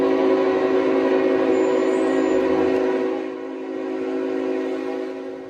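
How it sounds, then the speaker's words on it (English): A train horn blares steadily in the distance at an early-morning rail crossing in Georgia, loud and sustained with rich layered tones. Rumbling rail noise lies underneath, and the horn eases slightly toward the end. "The horns blaring in the distance."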